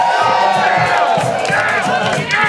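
Dense, loud crowd cheering and shouting at a live reggae concert, a continuous roar of many voices with whoops throughout.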